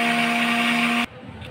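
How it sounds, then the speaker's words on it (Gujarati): A mixer grinder blending lemon sharbat made of lemon juice, sugar and water: a loud, steady motor whine with a tonal hum that cuts off abruptly after about a second. "અને આને આપણે મિક્સરમાં ચન કરીશું."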